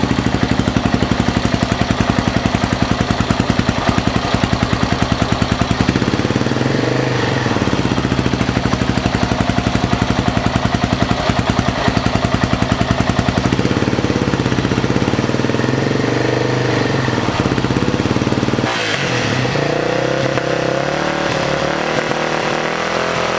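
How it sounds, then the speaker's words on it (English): A Yamaha TT600 motorcycle engine, a custom scrambler build, runs loud and steady with a rough, choppy idle, rising and falling through a couple of blips before settling, with no voices. "let's go turn the bike on and see what happens"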